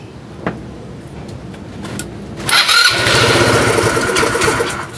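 A motorcycle engine with an unstable idle that keeps stalling cranks after a few quiet seconds, then catches and runs loudly with a rough, sputtering idle.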